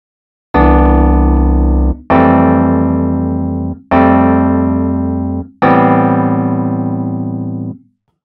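Four sustained synth chords from an Amped Electra preset in Steinberg HALion Sonic, each loud and bright with a sharp attack and slow decay, played one after another with short gaps and no voices.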